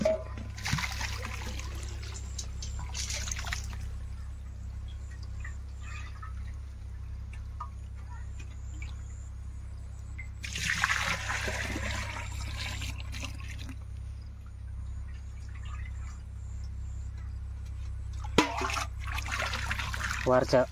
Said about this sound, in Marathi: कळशीनेच भरतो पाणी.